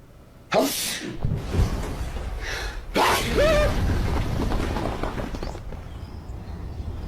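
A sharp burst like a sneeze breaks the quiet, followed by a second breathy outburst and some muffled movement, close and fairly loud.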